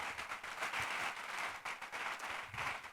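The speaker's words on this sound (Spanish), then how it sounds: "Dale un aplauso a Él si lo puede hacer" A church congregation applauds, a steady mid-sized round of clapping that holds at even strength throughout.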